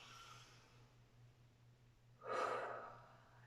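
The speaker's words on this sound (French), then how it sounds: "Et on va prendre une grande inspiration." A single deep inhaled breath during a strength-training session, swelling up for about a second near the end after a quiet stretch, close and clear with no talk.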